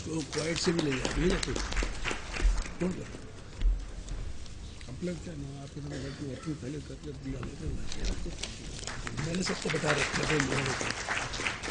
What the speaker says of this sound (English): request the house to welcome him with a thunder applause